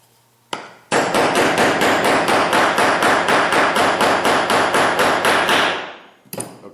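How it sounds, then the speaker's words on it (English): A punch is hammered to drive a pin home during a rifle bolt carrier build, heard as a rapid, even series of about twenty sharp metallic blows close up, preceded by one lone strike and trailing off at the end. "make sure the pin is loose, and then drive it home with a punch."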